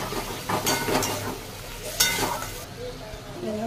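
Spice paste fries in a pan with bursts of sizzling as it is stirred, two louder spatters standing out before the hiss settles into a quieter crackle.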